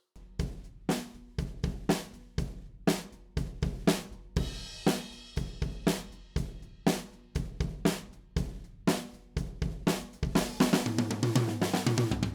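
A drum kit plays a steady groove with sharp kicks, snare hits and washy cymbals, captured from above by a Rode K2 condenser overhead mic in cardioid, with a full, roomy tone.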